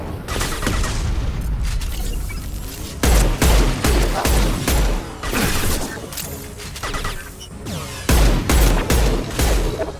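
Weapons firing in Mass Effect 2 Remastered: loud, dense volleys of gunfire with booming impacts, coming in repeated bursts over constant combat noise.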